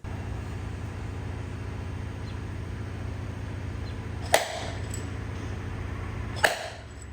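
Two sharp snapping pops, a couple of seconds apart, cut through a steady low mechanical drone as paintless dent repair glue tabs release from a Kia K5's hail-damaged metal panel.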